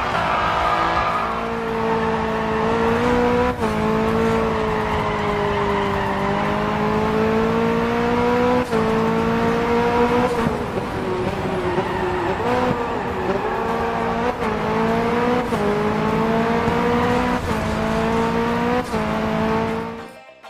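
Licensed luxury cars race on a real-world track in a mobile racing game, engines revving steadily with shifting pitch and occasional gear changes, loud and continuous for about twenty seconds.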